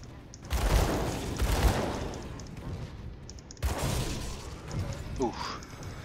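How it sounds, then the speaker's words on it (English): Mortar blasts in the Grim Dawn video game, two heavy booming impacts about three seconds apart under a loud, dense mix of game effects with someone talking over them. "Mortar!"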